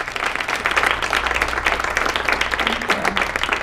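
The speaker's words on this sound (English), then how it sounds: "So a round of applause for our panelists." An audience at a talk applauds the panelists, a dense burst of clapping from a room full of people, fairly loud and close, lasting a few seconds.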